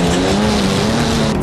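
A Ford F-150 pickup's EcoBoost V6 engine roars steadily at high revs, its droning pitch rising slightly, up close with no talking.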